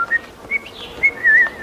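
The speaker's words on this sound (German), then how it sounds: "Eine feine Dame pfeift nicht, Penelope." A woman whistles a short, bright tune of a few rising and falling notes, close and alone, in an old black-and-white comedy film scene.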